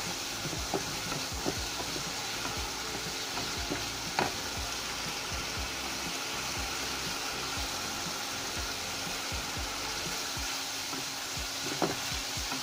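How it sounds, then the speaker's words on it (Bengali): Turmeric and chili powder frying with okra and small puti fish in a pan, giving a soft, even, continuous sizzle with occasional sharp clicks and scrapes of a spoon, heard close with no talking. "মশলা ভালো করে কষিয়ে নেব।"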